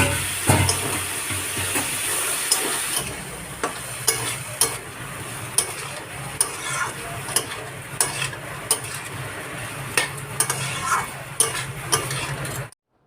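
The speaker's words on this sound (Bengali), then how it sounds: "মশলাটা কষাতে কষাতে একটু তেল ছেড়ে দিলে তারপর আমি সেদ্ধ করে রাখা কাবলি ছোলাগুলো দিয়ে" Boiled kabuli chickpeas are stirred into masala frying in oil for Bengali ghugni: a steady sizzle runs underneath while a spatula scrapes and knocks against the pan in repeated, uneven strokes close by.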